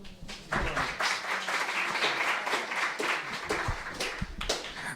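An audience breaks into sustained applause in a hall, dense steady clapping close and loud for the whole stretch, with a brief voice near the start.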